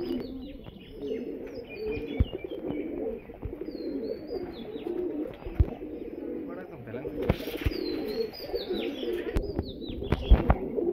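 Breeder pigeons in a loft coo in low, repeated throaty bursts, with a few higher chirps overhead; a voice speaks now and then beneath the nearby flock.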